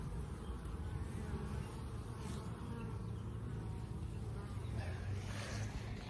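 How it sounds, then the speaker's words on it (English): A dense, steady drone of many honeybees buzzing close by at the hive, continuous and busy throughout with no pauses. "this is the first hive here. Bees are doing good. They're going crazy here."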